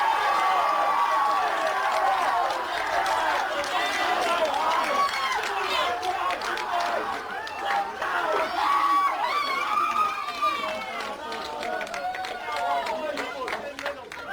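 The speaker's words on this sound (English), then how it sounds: "the crowd tells the story on full time" A crowd cheers and roars steadily at the full-time whistle of a schoolboy rugby league match between Hallam College and PB Fairfield, with a commentator talking over the sustained noise.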